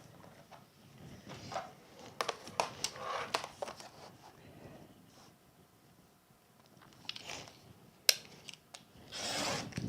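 Quiet, close snipping and rubbing as a blade cuts through leather for a tool belt, in irregular short bursts with pauses between them.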